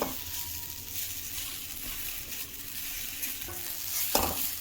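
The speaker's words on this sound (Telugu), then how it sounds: "ఈ బెల్లం కరిగేదాకా తిప్పుతూనే ఉండాలండి" Grated coconut and jaggery stirred in a pan, a soft steady scraping and faint sizzle with occasional spoon clinks against the pan, no talking.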